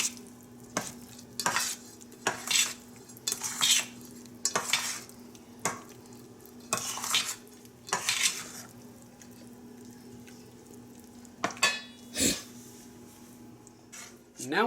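Washed, drained blueberries, a cup and a half, stirred into thick pancake batter in a bowl: repeated close scraping and squelching strokes in an uneven rhythm, with soft clinks of a utensil against the bowl.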